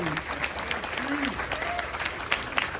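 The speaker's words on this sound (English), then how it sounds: "Yes, big round of applause to them." Audience applause for police officers at a civic recognition event in Alhambra, a steady patter of clapping hands filling the room throughout, with a voice briefly audible over it.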